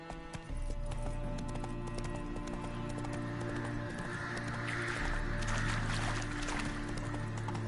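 Roach, a horse in The Witcher 3 video game, trots along with steady, rhythmic clip-clop hoofbeats over a continuous layer of game music and ambience, loud and close throughout.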